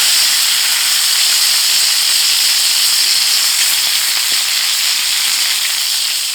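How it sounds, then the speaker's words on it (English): Steady, dense sizzling hiss runs throughout at a constant level, like hot skillets of steak and chanterelles sizzling loudly over a wood firebox, with no talking. "Still sizzling away."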